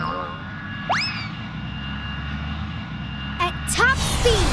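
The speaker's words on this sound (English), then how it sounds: "Here comes Jett, the fastest plane in the world." A cartoon jet plane zooms past, with rising whooshing engine sweeps near the start and another burst of swooping tones near the end over a steady animated background hum.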